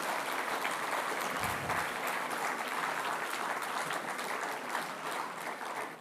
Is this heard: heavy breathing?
no